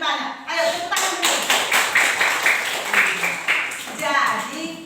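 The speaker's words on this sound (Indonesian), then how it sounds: "Ayo, tepuk tangan dulu." Children in a classroom clap hands in a rhythmic pattern, bursts of quick claps repeating in regular groups, with young voices chanting along underneath, close and moderately loud.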